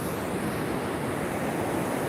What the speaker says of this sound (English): Water coming. Look at the ocean is rolling.